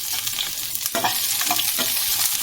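Chopped onion frying with dried red chillies and bay leaves in a hot pan, a loud close sizzle broken by scraping stir strokes, no speech.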